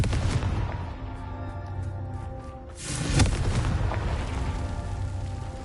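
A Confringo spell explosion in Hogwarts Legacy on PS5 booms loud and deep, then a second heavy blast with rumbling debris follows about halfway through.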